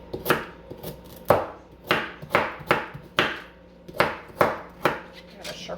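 A knife chops carrots and onions on a board in a string of about a dozen crisp, uneven knocks, close and clear, with a few quiet pauses between bursts.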